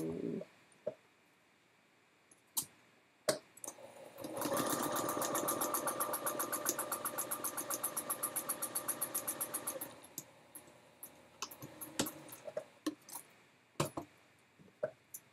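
A sewing machine stitches a quilt block, a burst of rapid rhythmic needle chatter lasting several seconds and slowing at the end, framed by quiet handling clicks and taps.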